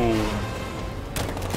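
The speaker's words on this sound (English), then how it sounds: "Riot suppressor engaged." A tonal mechanical hum from the Batmobile in a Batman video game gives way to a sudden loud burst of riot suppressor gunfire, a rapid rattling volley in the final half second.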